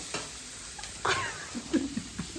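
Onion sizzling softly in a pan while being stirred for mutton rassa, faint scrapes and light crackles close by in a quiet kitchen.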